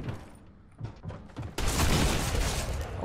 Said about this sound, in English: First time using drum shotgun there.